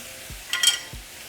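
Seasoned diced potatoes fry in a pan with a brief sizzling hiss and soft stirring scrapes, close and moderately loud.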